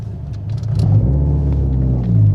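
A 500 whp Subaru WRX STI warms up with a steady, deep, close rumble that swells slightly now and then, with a few light clicks on top and no talking.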